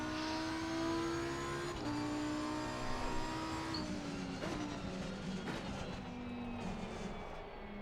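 A race car engine drones through laps on a track, a steady high-pitched whine whose pitch shifts with gear changes and throttle. It stays continuous and moderately distant, with no speech.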